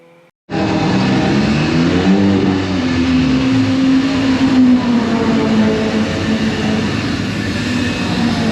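Racing cars at the Brands Hatch circuit during a SuperCup race: a loud, continuous engine roar begins abruptly, with pitch sweeping up and down as cars pass close, steady through the rest with no talk.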